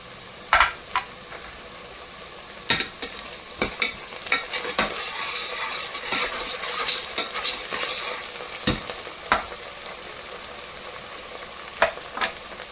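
Ginger garlic paste frying with fenugreek leaves in a pan, a steady sizzle broken by repeated sharp scrapes and clinks of a spoon stirring against the metal, close and clear with no talk.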